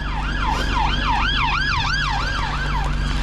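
Emergency vehicle siren, a fire engine or ambulance, wailing in a steady up-and-down cycle at moderate distance over constant low traffic rumble, with no talking.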